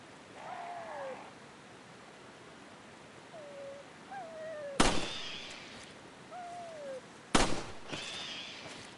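Two sharp, loud gunshots from the 2005 game Resident Evil 4 ring out several seconds apart at crows, with thin crow calls scattered around them over a steady ambient hiss.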